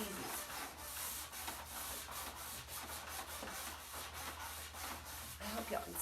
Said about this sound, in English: bring out the lines and the curves and details and all that with just a little hand sander